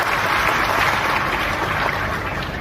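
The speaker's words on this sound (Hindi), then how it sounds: "पूरे मंच के लिए जोरदार ताली बजा दें हमारे सारे मंच के लिए।" Audience applause for the stage at a political rally in Lahar, Bhind, with Chief Minister Mohan Yadav present: dense, steady clapping from a large crowd, loud and continuous for the whole stretch with no talk over it.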